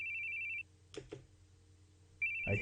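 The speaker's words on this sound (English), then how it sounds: "I hate hearing phones ring." A telephone rings in two bursts of a steady electronic tone, with a short gap between them, close and fairly loud. Indoors, with a couple of knocks in the pause and no talking.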